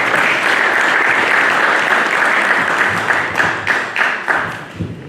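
A church congregation bursts into loud, dense applause during a French-language service, sustained clapping from the whole room that thins into scattered claps near the end.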